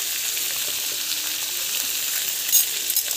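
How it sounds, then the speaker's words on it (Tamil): Onion and green chili sauté in oil in a pan for lemon rice, a steady close sizzle with faint stirring scrapes and a few brighter crackles near the end, with no talk. "ஸோ நல்லா வந்து வதக்கி வச்சுக்கோங்க"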